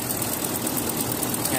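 A 2015 Land Rover with a 5.0L engine runs at a steady, close idle with an even rumble and slight knock, and voices can be heard over it.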